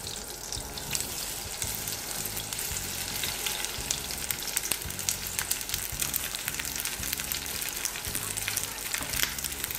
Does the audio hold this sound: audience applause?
no